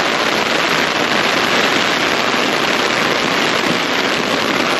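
Heavy rain pouring down steadily outdoors at a lot of bank repossessed cars, a dense constant hiss and patter at even loudness with no other sounds.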